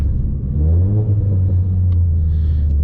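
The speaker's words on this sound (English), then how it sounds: "Now I'm gonna downshift." An automatic Ford Mustang with paddle shifters downshifts. The engine's rumble climbs in a rising rev sweep, then settles into a steady low drone, close and loud, with a couple of faint clicks near the end.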